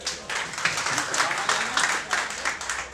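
Sustained clapping from a press conference audience at an album launch, steady and fairly dense, with fluctuating intensity across a few seconds.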